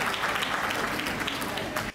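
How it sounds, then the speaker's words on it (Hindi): A short burst of clapping from a crowd, dense and steady, with voices mixed in, cutting off abruptly at the end. "मैं चाहता हूं आप अपने सम्मान में एक बार जोरदार तालियां बजाइए"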